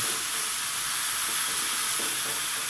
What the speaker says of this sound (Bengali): সব ভেন্ডিগুলোকে দিয়ে দিয়েছি এবার ভালো করে নেড়ে চেড়ে আমি এটাকে কষিয়ে নেব